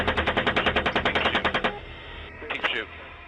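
Machine gun fire in documentary footage, a rapid close burst of about fifteen evenly spaced shots that stops abruptly, followed by a brief shout.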